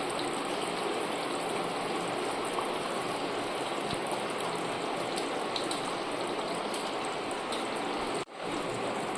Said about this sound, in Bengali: ঝোলটা ফুটে গেছে, এবার দিয়ে দিচ্ছি ভেজে রাখা মাছগুলো।